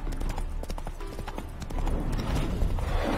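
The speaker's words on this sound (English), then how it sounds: "Spooking my horse." Roach the horse trots in Witcher 3 with a rapid run of hoof clip-clops, then a louder breathy snort or whinny as the pace builds.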